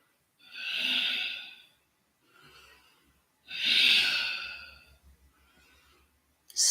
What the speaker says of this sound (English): Find the audible breath pattern that works for you.